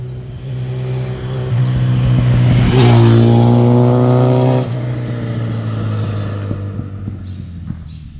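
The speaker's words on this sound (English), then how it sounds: "The bike certainly sounds good." A motorcycle engine revving nearby, a rough steady idle that swells into a louder sustained rev for a couple of seconds before dropping back to a throbbing idle.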